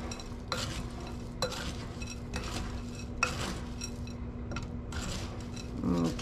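Turkey stuffing being stirred and mixed in a bowl, with repeated scraping and clanking strokes of the utensil against the dish, close and fairly steady, without talk.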